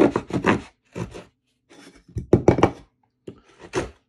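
Saw blade of a Swiza D09 pocket knife cutting into a piece of wood, a series of close rasping strokes in short bursts with brief pauses between them.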